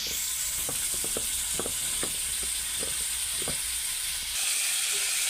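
Ridge gourd frying in oil in a pan, a steady hissing sizzle with scattered light scraping taps of a stirring utensil, no one talking.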